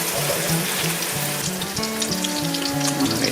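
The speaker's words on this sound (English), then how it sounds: "we're going to let it brown each side for about 2 minutes per side" Pork tenderloin sears in an Instant Pot with a loud, dense, steady sizzle of browning meat up close, alongside a low background hum and no speech.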